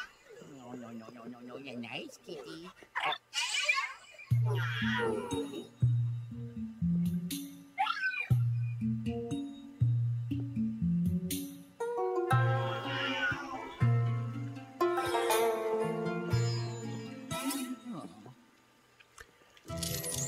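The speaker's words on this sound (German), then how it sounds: "da ist die doofe Katze wieder" A cartoonish cat in Luigi's Mansion 3 meows and yowls repeatedly, mixed with rhythmic game music and effects, while a person talks over parts of it.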